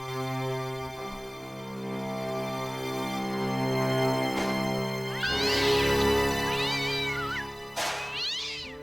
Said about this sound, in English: Still plays the single cat sound effect that everyone has.